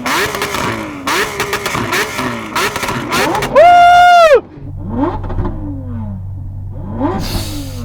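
Close by, a Lamborghini engine is revved in quick repeated blips, then held at a loud steady scream for about a second before dropping to a rumbling idle, followed by a few more revs.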